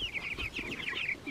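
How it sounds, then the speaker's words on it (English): Young meat chickens out on pasture cluck and peep in quick, overlapping bursts nearby, filling the short moment without pause. "It's our first meat chickens out on pasture."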